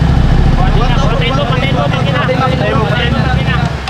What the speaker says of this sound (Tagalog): Patayin mo makina.